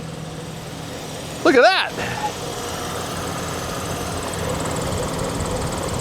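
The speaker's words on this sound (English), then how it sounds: "She's idling really pretty good for being dead for so long." A car idles steadily after a transmission repair, following a long stretch sitting dead; a low, even engine hum runs throughout, with a brief burst of voice near the start over it.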